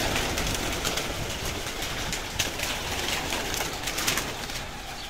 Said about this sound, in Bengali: কবুতরগুলো ভয়ে কি করতে আছে দেখেন। প্রায় 200 কবুতর হবে